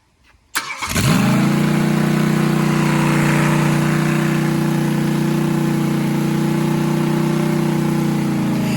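A small Ford 289 V8 cranks briefly, then fires and settles into a loud, steady, rumbling idle.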